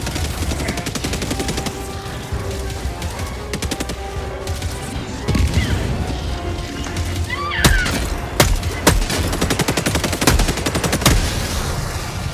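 Rifle gunfire in the video game Helldivers 2, with rapid bursts of sharp shots layered over dense ongoing battle noise, and several louder, closer cracks standing out in the second half.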